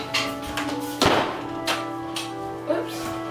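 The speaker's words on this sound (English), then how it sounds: "I'm just quickly going to close the door." A house door pushed shut on a wet, windy day, landing as one solid thunk in the middle, with a few lighter taps around it over a steady tonal background hum.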